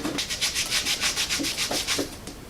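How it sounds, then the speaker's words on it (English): Sandpaper rubbed by hand across the top of an engine piston from a Ford AA Doodlebug, a quick rhythmic rasping of about a dozen strokes, close and steady. "I'm going to hit it with some sandpaper."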